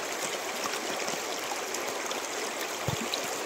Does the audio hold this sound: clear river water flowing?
yes